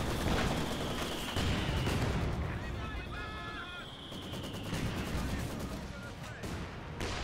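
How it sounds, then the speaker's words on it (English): Maxim machine gun laying down sustained suppressive fire in Company of Heroes 2, a dense, continuous rattle of gunfire mixed with battlefield booms, with voices talking over it throughout. "He could go ahead and initiate the suppressive fire"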